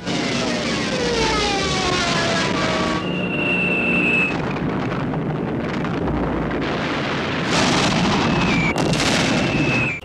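In a war film, a heavy 1.8-ton Luftwaffe bomb hits the Brest fortress. Loud, continuous roaring rumble with a droning aircraft-like whine and a falling whistle sweep out of the din, dense and close throughout.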